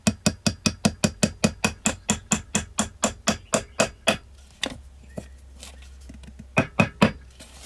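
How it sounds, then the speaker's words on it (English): A hammer taps a front sight into a CZ-75 pistol slide: a rapid, even run of about twenty sharp close strikes, a short pause with faint handling, then a few more taps. "Now we're going to take the hammer and just tap it in."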